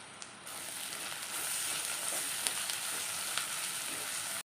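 Curry leaves, crushed ginger and garlic with chopped green chillies hit hot oil for beef curry, a loud bright hiss that swells after the first second and holds steady, dotted with small pops, before cutting off.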